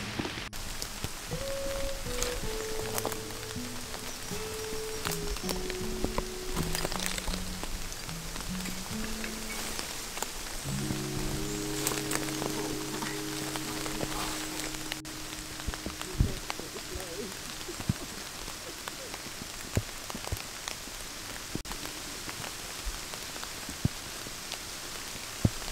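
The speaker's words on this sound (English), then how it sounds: "It's raining." Steady rain falls outdoors around an old bottle dump, a continuous broadband patter and hiss running the whole way with a few sharper drops, while someone talks in the foreground.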